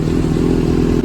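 A modified superbike's engine rumbles loudly up close at a Sunday group ride meet, a dense steady throb of low pulses with no break over the short moment.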